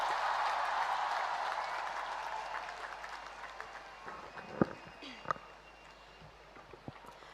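Faint, steady applause from an audience at an award ceremony welcoming PV Sindhu, a soft continuous wash of clapping that thins out, with a few sharper isolated claps and knocks near the end.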